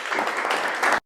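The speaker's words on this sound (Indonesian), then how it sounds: "Beri aplaus dulu untuk Nur Ainul" Applause from a university classroom audience, a short burst of dense clapping held at steady loudness for about a second, then stopping abruptly into silence.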